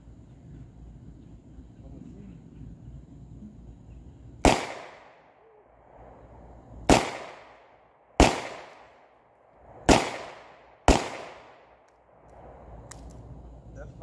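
Five sharp, loud gunshots ring out from a Taurus 605 polymer .357 Magnum revolver, spaced irregularly over several seconds, each followed by a brief echoing decay.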